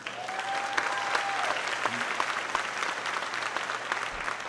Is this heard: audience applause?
yes